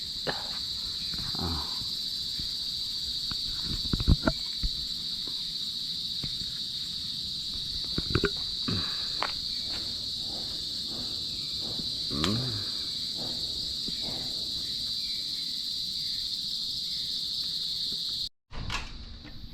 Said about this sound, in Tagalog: sarap talaga pakinggan dito mga kuliglig